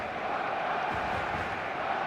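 A large football stadium crowd in a video game makes a steady, dense roar with cheering throughout, distant and unbroken, with no single voices standing out.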